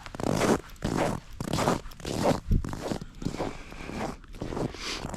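Crunching footsteps on cold snow during a hike on Belle Isle's Driker Trail in a polar vortex, a steady series of loud, close, gritty steps with a brief sharper crunch midway.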